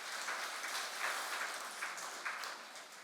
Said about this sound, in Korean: 다시 한 번 더 박수해 주시기 바랍니다